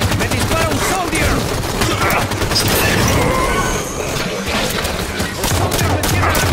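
Enemy soldier shooting in Halo 5: Guardians Firefight, dense rapid bursts of automatic fire from close range, loud and continuous amid chaotic battle noise with game voice callouts.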